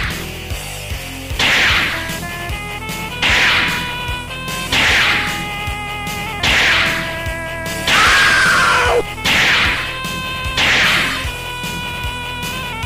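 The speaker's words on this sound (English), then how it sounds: "Rocket launcher." A rocket launcher fires repeatedly in the Metal Slug arcade game, six or seven loud whooshing blasts at an even pace of roughly one every one and a half seconds, layered over game music and effects.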